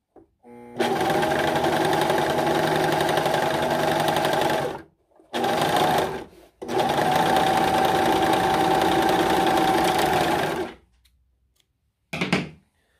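A Singer S0235 overlocker stitching a four-thread seam runs loud and steady in three long bursts separated by brief pauses, ending with a short final spurt.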